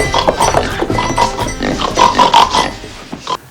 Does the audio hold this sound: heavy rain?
no